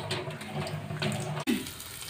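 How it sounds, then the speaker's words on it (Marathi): Cold water is poured over soybeans boiled for a minute, a continuous close splashing pour that pauses briefly and then resumes. "आणि वरून थोडंसं थंड पाणी घालायचं।"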